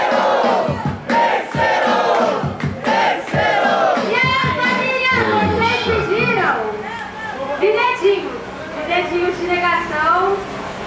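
Audience at a Batalha Da Leste rap battle in Brazil shouting and cheering, a dense, loud crowd roar with overlapping yells and voices throughout.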